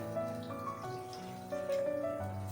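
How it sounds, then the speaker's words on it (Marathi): Water pours steadily into a pot of jitada fish curry, a continuous close trickle with a faint tonal hum underneath and no talking. "थोडंसं पाणी टाकूया"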